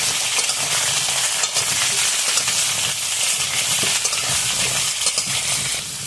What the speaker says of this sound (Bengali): এখন আলু আর কুমড়ো তার সঙ্গে আরো কিছুটা সময় ভেজে নেব।